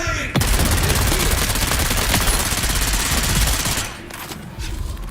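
Sustained automatic gunfire from an enemy turret in the video game Dune: Awakening, a dense unbroken volley that runs loud for several seconds and then cuts off, leaving a few scattered shots and faint noise.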